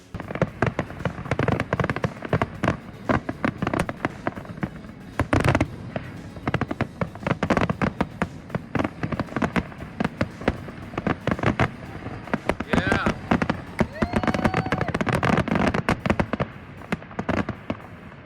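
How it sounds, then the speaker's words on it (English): Fireworks over the Middle River bursting in a rapid, continuous barrage of loud cracks and booms, with crackling and whistling mixed in throughout. "allow us to experience fireworks on the Middle River for the first time"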